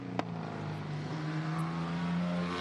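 A Holden six-cylinder sprint car with triple carburettors works hard at a sprint event, its engine a steady, sustained drone heard from a moderate distance with a brief sharp click near the start.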